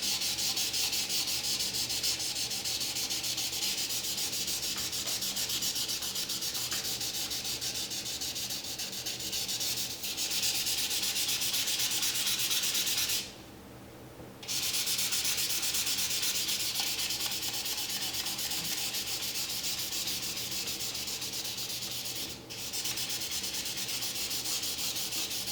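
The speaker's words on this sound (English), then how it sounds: "So I'm going to scrape off the oxides with the fine sandpaper." Fine sandpaper rubbing steadily against a forged high carbon steel knife blade to remove oxides, a continuous close scratchy abrasion with only brief pauses.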